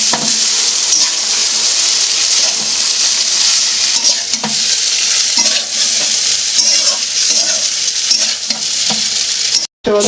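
Pasta tossed into a pan of already-fried onions sizzles steadily and loudly, with spatula scrapes and stirring clatter throughout and a brief drop-out near the end.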